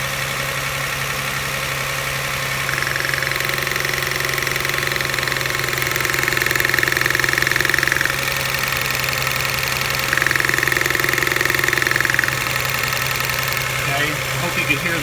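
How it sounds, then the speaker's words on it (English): A 1999 Toyota Camry Solara with a 3.0L V6 idles steadily with a slight misfire, a close, continuous low engine rumble with faint irregular roughness, and a higher tone swelling in and out twice. "The engine vibrates a little bit, misfiring."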